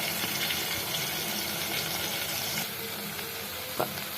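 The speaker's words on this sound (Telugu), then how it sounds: "ఉప్మా రవ్వ వేసుకొని ఫ్రై చేసుకోండి." Semolina for upma fries in hot oil with a steady, even hiss of frying and a faint clink of a spoon near the end.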